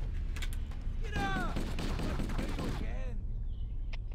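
Gunfire in the video game Halo, rapid bursts of shots in a dense stretch through the middle, mixed with game sounds and voices talking over it.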